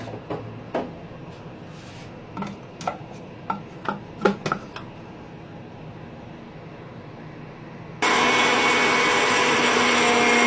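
Coriander, cumin, garlic, ginger and red chillies are ground into a paste; a few scattered clinks and taps come first, then a loud, steady, roaring grinder starts abruptly and runs continuously to the end.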